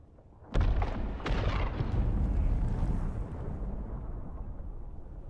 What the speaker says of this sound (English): It was an enormous explosion of some kind.